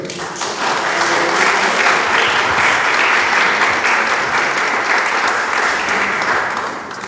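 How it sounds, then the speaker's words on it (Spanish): A church congregation claps together in sustained, loud applause lasting several seconds, dense and steady before tapering slightly at the end. "Dele palmas al Señor."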